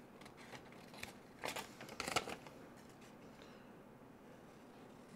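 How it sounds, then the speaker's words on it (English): Scissors snip through a paper template in a few quick, crisp cuts close by, with quiet pauses between them and no talking. "And what I did, grab my scissors."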